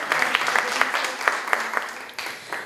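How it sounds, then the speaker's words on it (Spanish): Audience applause at an international seminar on alternative economies: a short burst of scattered hand claps with a voice talking over it. "Aplausos"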